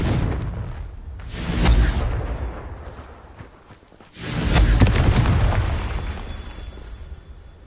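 Confringo fire spell explosions in the video game Hogwarts Legacy, two loud booming blasts a few seconds apart, each swelling and rumbling away, close and heavy.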